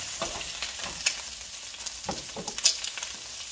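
Chicken from a home-raised rooster searing in a hot pan for coq au vin, a steady soft sizzle with a few sharper crackles and spatters, moderately close, no talking.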